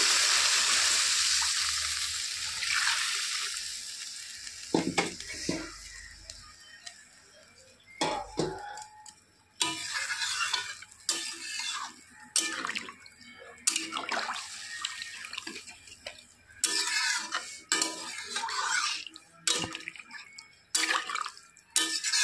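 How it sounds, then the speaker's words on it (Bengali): Thin fish curry broth for a katla fish dish with ginger-cumin paste is poured into a hot pan, giving a watery splashing stream followed by intermittent bubbling, dripping and clinks of a simmering liquid, close and fairly loud, with no talk. "এখন আমি এটাতে দিয়ে দিব ঝোল।"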